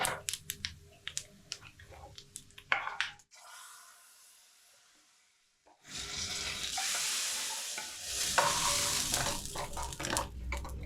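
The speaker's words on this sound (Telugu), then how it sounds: "తాలింపు అయిపోయిందమ్మా, స్టవ్ బంద్ చేసేసి" Mustard seeds and asafoetida tempered in hot oil sizzle as they go into tomato rasam: sharp clicks and pops at first, then a brief lull, then a loud, steady hissing sizzle that runs to the end.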